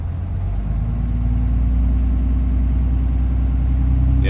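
A Cummins 5.9 diesel engine runs loud and close, its steady drone lifting in pitch and intensity as the throttle is pressed, holding a raised rev for several seconds.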